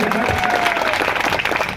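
Applause from an audience at a Tamil folk art performance with salangai ankle bells, a steady, dense clapping that fills the whole stretch at close range, with crowd noise mixed in.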